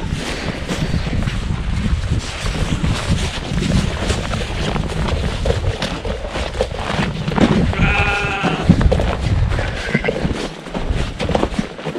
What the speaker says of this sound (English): So, the sheep are on self-feeding round bales right now.